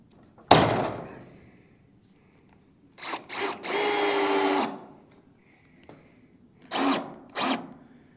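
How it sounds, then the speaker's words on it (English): A power drill works screws on a metal roof panel of a backyard gas station addition, giving a sharp opening clatter, then several short whirring bursts and a longer run, with quiet gaps between. "loosen up my screws here and adjust this roof panel"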